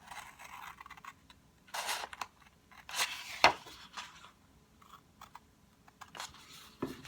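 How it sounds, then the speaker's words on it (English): Scissors snipping a paper wrap for a wine bottle in a quiet craft room: a few separate short crisp cuts and rustles spaced across the moment, with faint handling noises between. "I'm going to take a pair of scissors"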